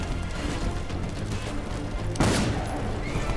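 Video game gunfire crackles steadily through a firefight, ending in a louder close impact or blast near the end.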